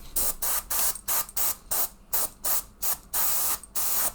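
A Fengda airbrush fed by a compressor sprays paint in a series of about ten loud, close bursts of hissing air, each lasting roughly a quarter second with short gaps between.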